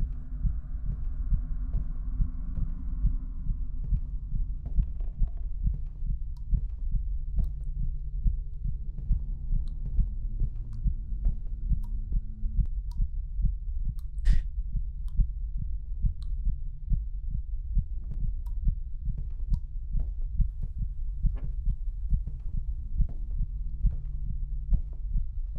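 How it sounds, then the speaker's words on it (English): Rhythmic heartbeat thumping in a horror video game, a steady deep double pulse repeating throughout with a faint hum underneath. "Heartbeat's coming in."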